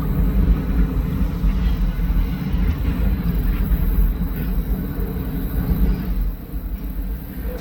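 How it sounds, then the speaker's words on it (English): Freight train rolling past a Chicago park, a continuous heavy low rumble with rattling undertones and wind buffeting the microphone, fairly loud throughout. "there's a freight train coming too"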